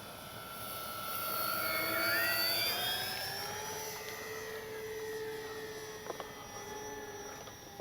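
An RC Avios Twin Otter model plane with twin electric motors flies past, a steady high whine that swells and shifts pitch as it passes, then fades to a more distant buzz.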